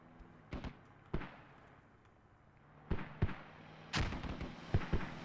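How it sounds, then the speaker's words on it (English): Mortars being fired in a multiplayer shooter, a series of muffled thumps and booms in irregular clusters, several close together then a pause and more, moderately quiet with rumbling tails and no voices. "So here comes some more mortars, it sounds like. Sounds like a lot of mortars getting shot off."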